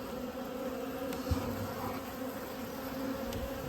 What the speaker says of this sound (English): Look at all the bees coming up.